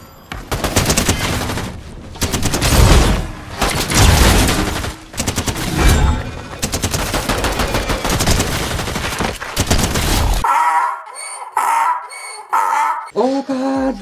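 Rapid bursts of gunfire in the video game Fortnite come in loud clustered volleys with short gaps, then give way near the end to quieter game effects and a voice talking.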